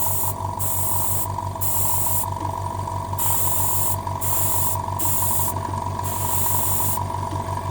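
An airbrush sprays primer onto a miniature in loud hissing bursts of about a second each, starting and stopping repeatedly, over the steady hum of an air compressor.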